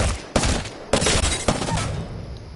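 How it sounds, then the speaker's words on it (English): Three loud, close bursts of rapid gunfire from the Prowler burst PDW submachine gun in Apex Legends, each a short rattling volley with brief gaps between. "the Prowler burst, the PDW, and this is what burst is like"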